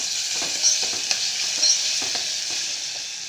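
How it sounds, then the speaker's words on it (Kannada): Curry leaves, coriander and dried red chillies frying in hot oil for a simple rasam, a loud, close, continuous crackling sizzle with stirring, and no voices. "ನಂತರ ಸ್ವಲ್ಪ ಕರಿಬೇವು, ಕೊತ್ತಂಬರಿ, ಸೊ ಒಣಗಿದ ಮೆಣಸಿನ್ಕಾಯಿ ಹಾಕಿ ಫ್ರೈ ಮಾಡ್ಕೊಳ್ಳಿ."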